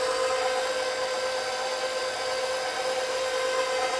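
A stand mixer on its stir setting churns lemon cooler cookie dough, giving off a steady, continuous motor whine with a constant pitch and no talking.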